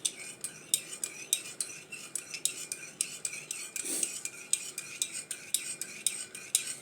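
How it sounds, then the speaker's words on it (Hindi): A spoon stirs a milk mixture in a small cup, tapping and scraping the sides in a steady, fast rhythm of light clinks, close up and with no voices. "तो इसलिए बहुत अच्छे से मिक्स कर रही हूँ मैं इसको"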